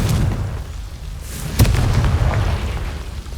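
A Confringo blasting spell in Hogwarts Legacy bursts with a sharp crack, then a heavy low boom rumbles and fades, loud and close with no talk.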